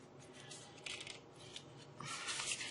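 A tarot deck is shuffled in a few quick, soft riffling bursts, close and quiet, with brief pauses between.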